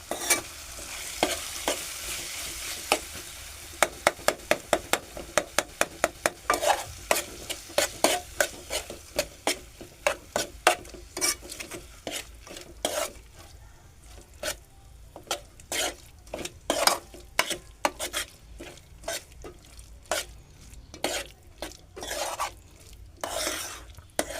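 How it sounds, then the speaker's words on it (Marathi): A spatula stirs chickpea bhaji in a pan in a quick run of repeated scraping strokes over a soft frying sizzle, slowing later into sparser, more spaced-out scrapes. "आता मी ते चांगलं ढवळून घेतो"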